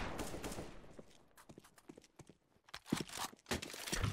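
Gunfire from a video game shooter match: a run of sharp, scattered shots and impacts over a noisy backdrop, some close and loud, others lighter, with brief gaps between bursts.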